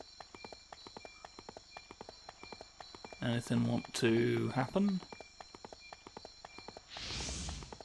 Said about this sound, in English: we sure are running through a maze for a while, aren't we, on a horse?